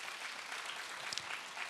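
A church congregation at a Friday prayer meeting applauds, a dense wash of clapping heard evenly throughout at a fairly faint level.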